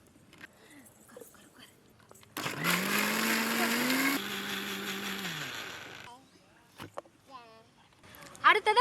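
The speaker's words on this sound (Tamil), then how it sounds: "முட்டையோட வெள்ளைக்கருவை மிக்ஸியில் அடிச்சுக்கலாம்." An electric mixer blender whips egg whites for mayonnaise, giving a loud, whining motor run of a few seconds that shifts pitch midway. Quiet kitchen clatter and soft speech come before and after.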